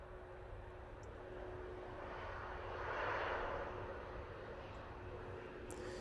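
Air France A380 airliner arriving at Manchester Airport from Paris, a faint distant engine roar that swells gently and fades against a low outdoor background hum.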